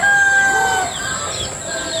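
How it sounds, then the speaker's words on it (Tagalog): A rooster crows in the early morning outdoors, one drawn-out call that is fairly close and clear over faint background hiss. "Nanggigising na ang mga manok."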